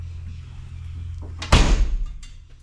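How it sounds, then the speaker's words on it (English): A heavy car door slams shut with a solid, deep thud after a brief creak, alone against a low engine-like hum. "because that's a heavy door."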